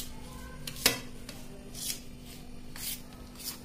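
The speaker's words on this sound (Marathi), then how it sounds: "तर इथं आता आपण तेल टाकून घेतलंय, हे गरम आहे त्याच्यामुळे आपण त्याला मिक्स करून घेऊया" Faint, close rubbing and scraping as hot oil is worked by hand into bhajani flour for farali chakli dough, in a few soft, irregular strokes over a quiet background.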